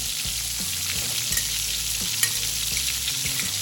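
Kohlrabi stirred back into a thickening sauce in a pan, with a steady loud sizzle and repeated scraping stirs throughout, a couple of sharper clinks standing out, no voices.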